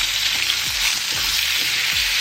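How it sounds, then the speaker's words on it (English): Pork chops sear in a hot pan with a dense, steady hiss and crackle, broken by a few soft low thumps, close up and with no talking. "We are going to place our meat and we're going to sear them for about 2 minutes on each side."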